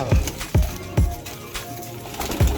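Habshi pigeons cooing close by in a loft: several deep, rhythmic coos repeat about every half second, with faint background voices and chatter.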